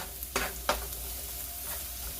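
Onions frying in a pan for a tuna roll filling give a faint, steady sizzle with two sharper clatters of stirring near the start and a low hum beneath.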